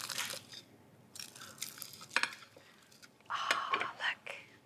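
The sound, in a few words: crispy tortilla wrap crunching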